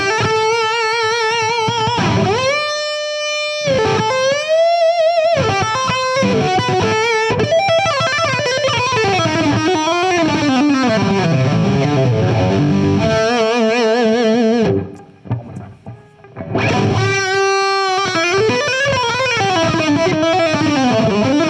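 Electric guitar on its humbucker pickup, driven through a Suhr Eclipse overdrive pedal: loud, saturated riffs and sustained chords with pauses between phrases and a brief near-silent gap late on, played alone.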